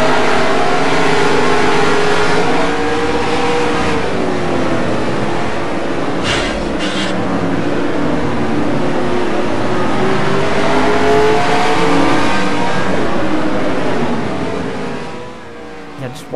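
A simulated NASCAR race car engine in NASCAR Racing 2003 drones loudly and continuously, its pitch sliding up and down as it revs, close and dominant with no talk over it.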